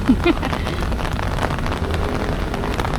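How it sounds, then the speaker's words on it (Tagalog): Steady rain falling on a Taipei street, a dense continuous wash of drops with a faint brief voice near the start and traffic rumble low beneath. "And lumalakas na yung ulan, guys."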